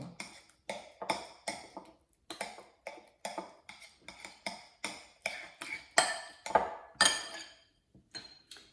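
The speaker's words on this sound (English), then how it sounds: "I'm going to use that same spoon and just mash the bananas some more" A spoon mashes bananas for banana bread in a bowl, a run of about fifteen sharp clinking scrapes in a quick, uneven rhythm, close and clear with no talking.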